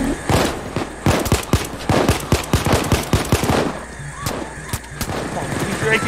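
Automatic gunfire in the Payday 2 video game, rapid loud bursts of machine gun shots in close succession, tapering into scattered single shots toward the end.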